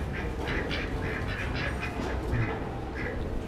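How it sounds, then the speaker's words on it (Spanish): Duck at an interactive farm park in Chimalhuacán, a series of raspy quacks in quick irregular bursts, fairly close over a soft outdoor background. "Y pues ese pato que está tomando."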